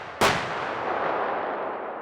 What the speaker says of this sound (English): It's a self-propelled howitzer that can fire up to 50 kilometers of range with special ammunition.